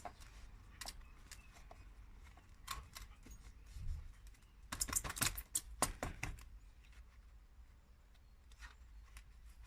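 A plant pot filled with compost being tapped during repotting, a quick cluster of light, dull knocks and taps close by, with scattered softer handling sounds around it.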